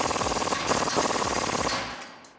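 A pneumatic impact wrench drives a 17mm bolt home on a 2007-2020 Toyota Tundra during a Rough Country 3-inch bolt-on suspension lift, giving a loud, close, steady rattling hammer burst that cuts off near the end.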